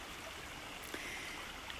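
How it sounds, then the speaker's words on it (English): Small waterfall in a botanical garden pours in a steady, soft rushing stream of splashing water, continuous and faint with no voices over it. "One of our many little waterfalls here at the Botanical Garden."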